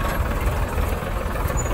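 A Farmtrac 60 tractor pulling a 22-disc harrow runs with a steady, dense low engine drone and rough mechanical rumble, close and loud throughout.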